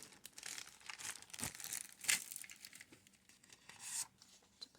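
Thin paper crinkling and rustling as it is handled for journal page making, with soft irregular rustles and a few sharper crackling bursts, close and fairly quiet, no talking.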